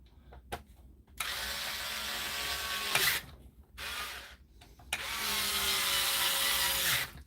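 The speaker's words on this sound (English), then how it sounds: "I must admit there's more torque in this draper screwdriver than there is in those wee Parkside ones." A cordless Draper electric screwdriver runs in two bursts of a few seconds each, giving a close, loud mechanical whir and ratcheting buzz, with short quiet gaps and clicks between them.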